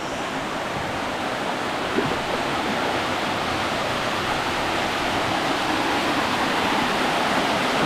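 A three-tiered waterfall behind a farm pours in a steady, loud, broadband rush of falling water that stays constant and close throughout, with no voices over it.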